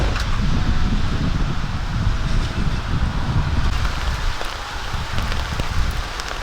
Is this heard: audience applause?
no